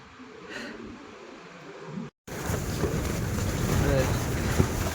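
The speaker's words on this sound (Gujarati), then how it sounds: "પવન વધી ગયો" Strong wind in Ladakh, near an airport, roars and buffets continuously, with a brief cutout midway, then gusts back even louder; faint voices are buried beneath it.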